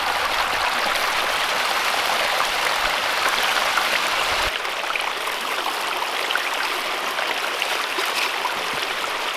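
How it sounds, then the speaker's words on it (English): Water and gravel wash steadily through a gold sluice box, making a continuous, close, rushing hiss that softens slightly partway through, with no one talking. "Gold Nona and I have almost got the 10th bucket pushed through the sluice box"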